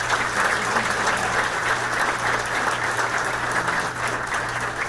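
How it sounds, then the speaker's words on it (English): An audience at a government announcement event applauds, with steady, dense clapping from a crowd throughout and no breaks. "Let's give another round of applause to our president."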